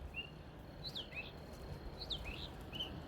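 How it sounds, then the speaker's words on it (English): Birds sing outdoors in nature, with a few clear, thin whistled chirps in short bursts against a quiet background. "Right here by the birds."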